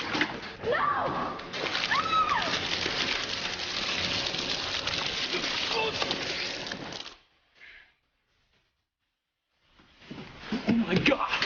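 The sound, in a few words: water splashing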